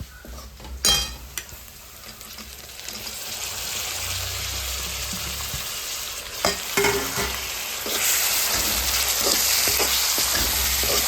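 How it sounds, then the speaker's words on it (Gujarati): Tomatoes frying in a pan with garlic for a cashew masala curry, a steady broadband sizzle that grows louder in the second half, with scraping stirs and a few clinks of the spoon against the pan. "હાલો તો હવે આપણે નાખી દઈએ ટમેટા."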